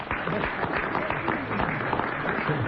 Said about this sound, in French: Applaudissez-la parce qu'il y en a une par an